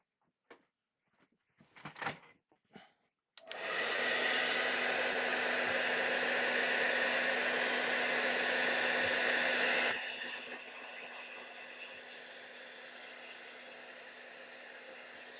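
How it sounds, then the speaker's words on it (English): A hair dryer roars on steadily for about twelve seconds, drying wet watercolour paint on a winter landscape, after a few brief knocks and clicks; it runs loud, then drops to a slightly lower setting near the end. "Let's hit that with the dryer."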